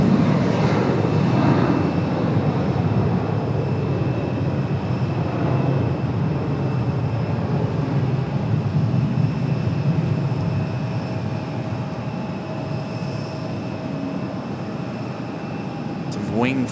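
Jet airliner at Raleigh-Durham International Airport, heard during evening plane spotting in humid weather: a loud, steady broadband engine roar holding throughout, gradually easing toward the end, with voices talking faintly underneath.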